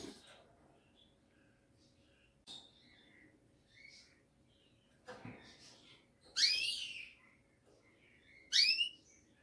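A canary in its cage gives a few short, bright chirps, two louder bursts near the end, faint and sparse over a quiet room hum.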